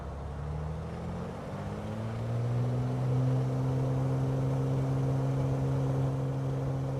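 A simulated propeller aircraft engine drones in Microsoft Flight Simulator, a steady, close hum that swells and climbs in pitch around two seconds in, then holds level, with no talking.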